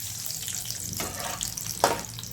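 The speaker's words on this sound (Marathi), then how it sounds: "इकडे शेंगदाणे तळून घेऊया." Peanuts frying in hot oil for a crunchy corn chivda, a steady watery hiss and crackle close up, with a brief louder burst near the end.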